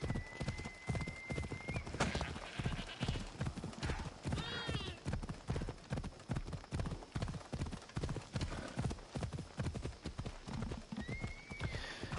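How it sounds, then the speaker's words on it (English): A horse gallops in the Assassin's Creed Odyssey video game, rapid steady clip-clop hoofbeats up close for the whole stretch, with a few whinnies mixed in. "Get on the horse, please."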